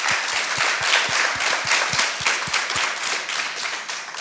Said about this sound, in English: let's give Dodie a round of applause